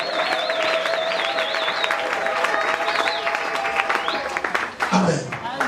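A church congregation claps and shouts for joy together, a dense, lively crowd sound with cheering and voices ringing through the whole stretch.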